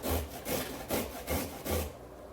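A broccoli stem scrapes down a grater in four or five quick rhythmic strokes, close and fairly loud, with a brief quiet tail at the end and no voices.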